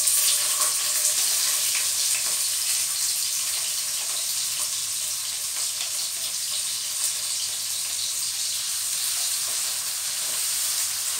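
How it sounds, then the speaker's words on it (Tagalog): Onion frying in hot cooking oil in a frying pan, a steady close hiss and crackle of sizzling that continues evenly with no talking. "Mag-add lang tayo ng cooking oil sa ating frying pan. Ilagay na natin ang ating onion."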